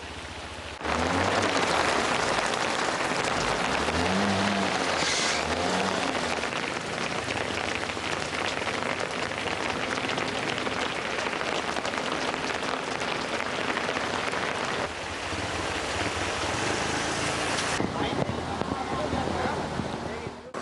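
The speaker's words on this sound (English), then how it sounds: "The city of Colombo has been receiving a heavy downpour since this morning." A heavy downpour pounds the streets of Colombo, a steady, loud hiss of rain on surfaces that carries through the whole stretch, with a low rumble beneath it early on.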